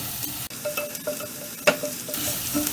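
Two chopped green chillies sautéing with garlic in a pan, a close steady sizzle with a few spatula stirs and scrapes and one sharper clack midway, with no talking.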